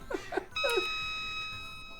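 School bell in the Pokémon Clockwork video game, a single sustained electronic ring that starts sharply after a short burst of voice and holds steady, fairly loud, until the end.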